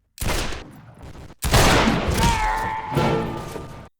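Loud close gunfire from an old historical weapon in the shooter game Darkest of Days: a sharp opening shot, a brief gap, then a heavy blast followed by a ringing, echoing tail with metallic mechanism sounds.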